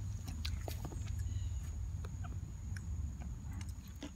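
Several chickens cluck and squawk nearby in scattered, irregular bursts over a low rumbling background, with occasional sharp calls.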